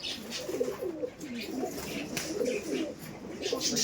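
Giribaj pigeons, a young pair offered for sale, coo in soft repeated low murmurs close by, with faint chatter and noise around them.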